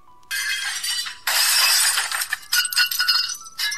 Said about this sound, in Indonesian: Suara kaca jendela yang pecah